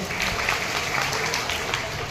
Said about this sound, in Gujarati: સાથે ખૂબ ખૂબ આપણા સમાજને તાળીઓથી વધાવો છે